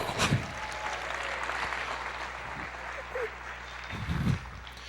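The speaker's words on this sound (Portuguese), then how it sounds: "Você pode aplaudir o Senhor" Church congregation applauding during a sermon, a soft, diffuse patter of clapping in a large room, fairly distant, with low voices and a few brief shouts breaking through.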